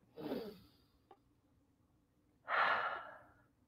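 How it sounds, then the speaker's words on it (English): Two deep breaths during a guided meditation: a soft, airy exhale or sigh first, a faint click in the quiet gap, then a louder, longer breath that slowly fades. The breathing is close and stands alone, without talk. "we breathe into this moment to put ourselves in this moment and breathe in life again"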